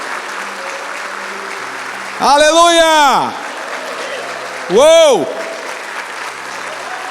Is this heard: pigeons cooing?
no